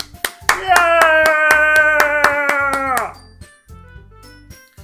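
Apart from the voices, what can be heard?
applause in a video game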